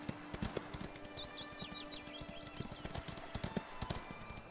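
Rapid clip-clop of galloping horse hooves in the Ostwind video game, dense and rhythmic throughout, with a light chirping tone above; close and steady, no talk.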